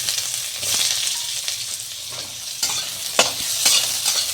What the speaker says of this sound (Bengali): আমি পেঁয়াজ কুচিটা দিয়ে দিলাম।